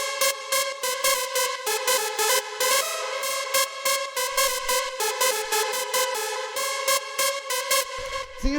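A fast rave techno synth lead at 144 BPM plays a quick, repeating pattern of bright, buzzy staccato notes in a dark mood, loud and upfront with no voice.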